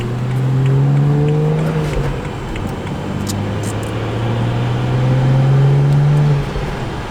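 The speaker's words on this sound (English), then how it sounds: "We're about to pull out of the neighborhood." A BMW 335i with a stage 2 tuned N55 turbo engine pulls out and cruises, its engine note rising and falling through several gear-like swells, heard steadily from inside the car without talk.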